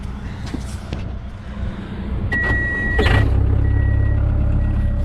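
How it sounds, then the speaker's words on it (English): Case 570 loader diesel engine idling steadily close by, a continuous low rumble with a brief higher whine partway through and no talking. "we're gonna crank it up and let it idle"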